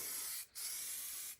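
Adhesion promoter sprays from an aerosol onto Polaris ATV plastics in two close, loud hissing bursts separated by a brief pause.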